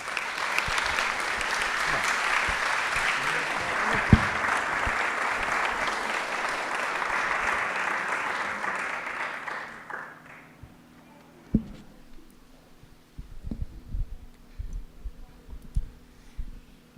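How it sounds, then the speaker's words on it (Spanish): Loud, dense audience applause at a welcome conference fills the first ten seconds, then fades into scattered claps, taps and room noise. "pido para ella un fuerte aplauso"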